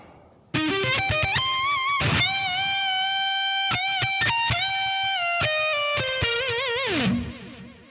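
A distorted electric guitar plays a fast blues-style lick in a shred vein, with rapid picked notes giving way to long sustained bends and vibrato before a closing slide down, loud and alone.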